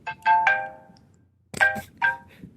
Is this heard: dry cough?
no